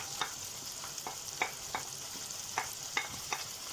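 Cubes of potato fry in a pan for a potato and egg shakshuka, with a soft steady sizzle and a spoon clicking against the pan at fairly regular intervals, close up, with no talking.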